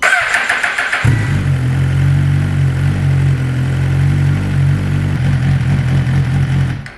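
A 2017-or-later Suzuki GSX-R1000 fitted with a clear clutch cover cranks briefly, then fires into a loud, close, steady idle that holds until the engine is cut at the end.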